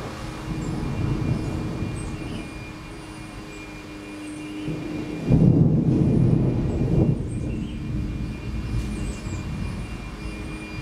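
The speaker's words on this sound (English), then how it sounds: "burst of thunder just happened." A burst of thunder rumbles low and heavy during a storm, swelling suddenly midway into a deep rolling roar that lingers before easing back to a steady background rumble, with no talking.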